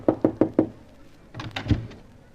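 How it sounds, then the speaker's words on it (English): Four quick, sharp knocks on a door, closely spaced and loud, followed by a softer pair of raps after a short pause, with no voices. "Shall we knock or just barge in?"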